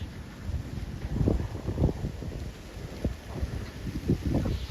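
Gusty strong wind blasts across the microphone during outdoor kite flying, a continuous rumbling roar with repeated louder surges, close and loud, with no voices standing out.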